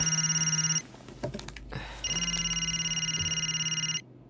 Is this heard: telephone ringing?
yes